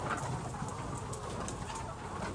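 A hen clucks faintly on a poultry layer farm, soft, scattered calls set against a steady background hum.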